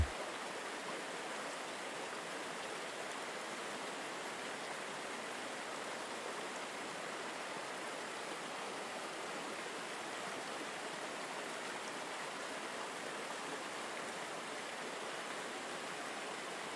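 Steady rushing waterfall cascading around a rock, a dense, unbroken wash of falling water that stays even and constant throughout.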